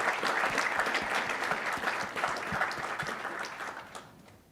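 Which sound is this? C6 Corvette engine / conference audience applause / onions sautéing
conference audience applause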